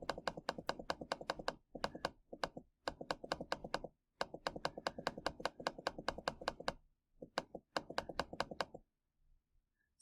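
Brisk typing on a computer keyboard while working on a word-processing document, dense bursts of clicking keystrokes separated by short pauses, close and fairly quiet, no talking.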